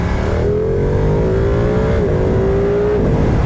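A motorcycle engine drones loudly and rises in pitch as it accelerates, with a gear shift partway through, heard up close over wind rush.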